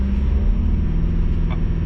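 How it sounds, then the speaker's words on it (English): The 1.9-litre turbo diesel in a 2024 Isuzu D-Max V-Cross pickup idles loudly and steadily, a deep continuous rumble with a low throbbing hum and no voices. "you can hear that diesel engine quite loudly"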